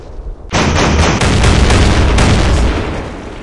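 Autocannon fire in a WWII-era wargame, a loud continuous barrage of heavy rapid shots and booms starting abruptly and sustained throughout, with no talking.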